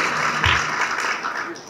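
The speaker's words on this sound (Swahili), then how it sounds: "Wapigeni makofi wote kwa pamoja." An audience of drivers at a meeting with a deputy minister breaks into a short burst of clapping, dense and moderately loud, with voices mixed in.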